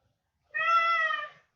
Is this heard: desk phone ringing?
no